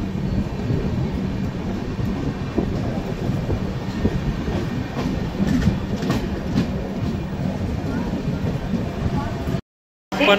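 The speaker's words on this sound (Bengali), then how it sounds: "দেখা যাক দেখি কোন ট্রেন যাচ্ছে" The Jagannath Express rolls steadily along the rails with a continuous rumbling clatter, close by, with faint voices in the background.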